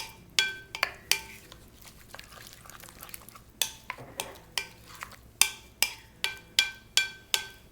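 A spoon clinks and scrapes against a bowl in quick, repeated strokes while shrimp cocktail is mixed with fresh chopped cilantro, the taps growing faster and more regular toward the end.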